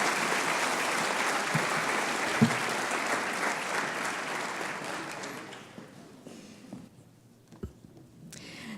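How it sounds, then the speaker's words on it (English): Audience applause for a group of scholarship recipients at a reception, dense and steady clapping that fades out over the final seconds, leaving a few scattered claps and quiet room noise. "Please give a round of applause for this great group."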